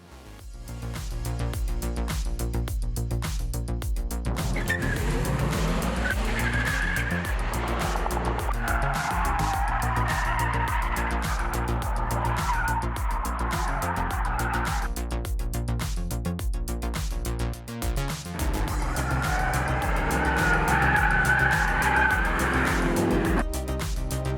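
2024 Dodge Charger Daytona Scat Pack electric muscle car driven hard, a sustained loud drone with waves of tire squeal rising and falling through the run, no voices.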